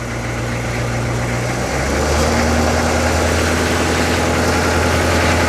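A Humvee engine idles with a deep steady rumble and vibration, shifting to a slightly higher, louder note partway through, close and continuous with no talking.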